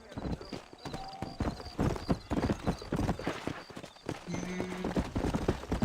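Horse hooves clip-clopping in the video game Red Dead Redemption, a steady rhythmic trot heard close under character dialogue, with a brief whinny and other game sounds mixed in.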